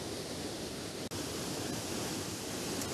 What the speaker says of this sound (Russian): С гор течет водопад.